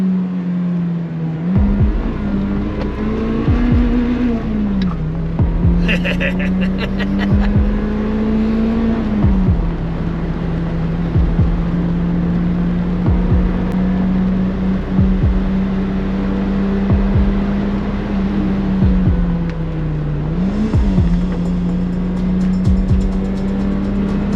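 A BMW E30 M3 driven hard in Sport mode, its engine droning loud and steady with repeated rising and falling revs through gear changes, plus brief tyre noise, with no talking.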